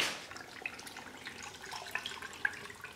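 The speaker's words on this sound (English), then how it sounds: "So now what we need to do is we need to completely submerge that in resin." Resin is poured over charcoal pieces in a mold, giving a faint, steady liquid trickle with a few small drips and splashes; no one speaks.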